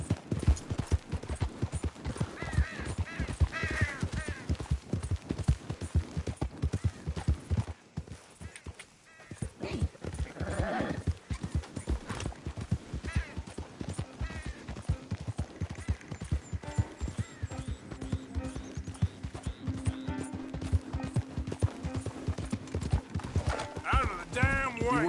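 Video-game horse hooves pound in a fast, continuous gallop for the whole stretch, dense and close, with a short lull partway through, snorts and whinnies, and voices talking over the running.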